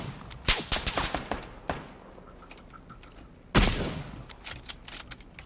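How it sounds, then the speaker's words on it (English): Random PUBG gunfire: a burst of rapid shots around the first two seconds, a quieter stretch, then a loud sharp blast followed by scattered further shots, fairly close. "You just shooting randomly now?"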